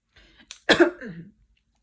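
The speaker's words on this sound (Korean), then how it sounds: "요즘 같은 세상에 기침하면 총살당할 것 같은데" A single sharp cough close to the microphone, followed by a brief rough throat sound, then silence.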